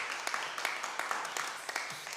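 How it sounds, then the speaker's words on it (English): An audience at the launch evening of the Young Norfolk Arts Festival 2021 at Norwich Arts Centre gives a round of applause, with steady, moderately loud clapping that carries from start to finish. "Round of applause, please."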